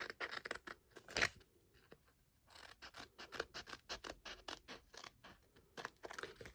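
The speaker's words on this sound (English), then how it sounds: "I'm going to mark that out and then cut the triangular piece out." Scissors cut a triangular piece out of card in a string of short, dry snips and scraping crunches, quiet and close, with a brief pause midway and no voices.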